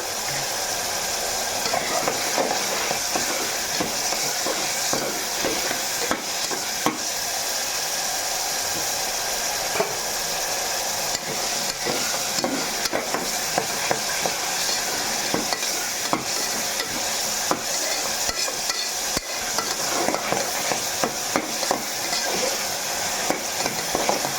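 Chicken frying with salt in a pan, a loud continuous sizzle with frequent stirring clatter and scrapes throughout, close up and without speech.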